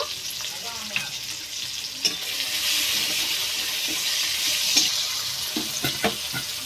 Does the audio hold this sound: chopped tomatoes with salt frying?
yes